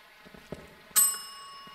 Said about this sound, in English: someone rang a bell